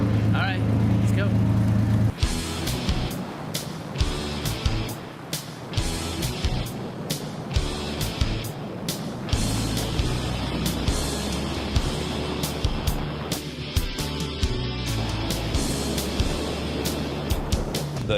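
A small, lightweight race car drives at speed around California Speedway, its engine droning loud and steady from inside the cockpit, with clicks and knocks over it and people talking.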